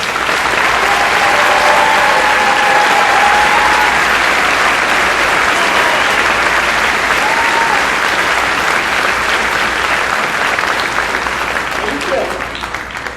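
A graduation audience at Woodbury High School's 2019 ceremony applauds arts students, with dense, steady clapping sustained loudly for over twelve seconds before easing slightly at the end.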